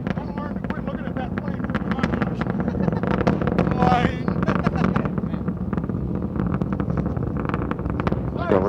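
Space Shuttle Discovery launching on mission STS-53, its engines throttled back during ascent, a steady broadband rumble with wind-like buffeting, heard under a commentator's ongoing narration.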